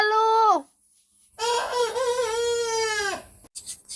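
A rooster named Lalu and a flock of chickens kept in a shed call out loudly in two bursts of harsh, drawn-out crowing and squawking, separated by a short silence and then a few brief clucks.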